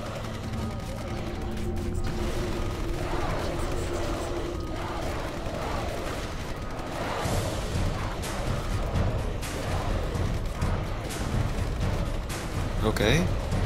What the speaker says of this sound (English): the turrets go active.